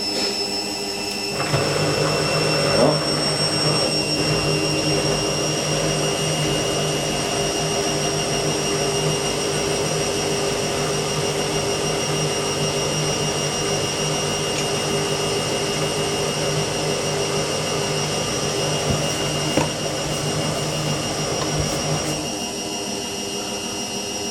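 An Indesit IWME146 integrated washing machine on a special sport programme spins out with its drain pump running, a steady loud whirring hum with a constant whine that carries for about twenty seconds before cutting off near the end.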